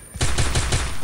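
In a shooter video game, a sudden close burst of automatic gunfire breaks a near-silence, about four rapid, punchy shots in quick succession.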